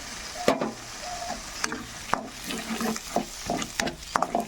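Whisked yogurt hits hot spiced oil in a pan on low flame, giving a soft sizzle broken by scraping stirs and clinks of the spoon, fairly close and with no talking.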